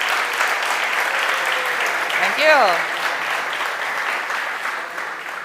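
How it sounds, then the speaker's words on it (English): Audience applause for Christina fills the room steadily throughout, a dense continuous clapping with a brief spoken thanks over it partway through. "Applause for Christina."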